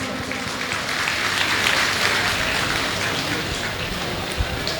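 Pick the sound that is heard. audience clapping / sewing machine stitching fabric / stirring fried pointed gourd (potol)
audience clapping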